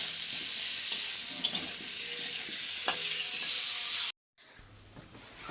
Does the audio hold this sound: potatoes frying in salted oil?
yes